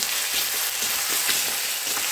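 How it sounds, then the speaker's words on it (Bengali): Garlic paste frying in a pan over a low flame, a continuous close hiss and sizzle with light crackling and faint stirring, unbroken and fairly loud. "রসুনটা একটু ভাজা ভাজা করে নিচ্ছি"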